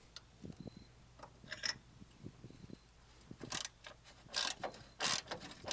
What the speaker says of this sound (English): using the 10mm, loosen up the battery bracket